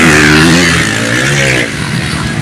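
A 250cc racing motorcycle at a town-fiesta race event roars loudly close by, its engine revving high then easing off as it passes, harsh and buzzing throughout.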